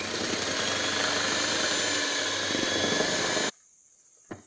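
An electric hand mixer beats biscuit dough of flour, butter and vanilla essence, a loud steady whirring drone that runs without pause and then cuts off abruptly, leaving near silence with one small knock.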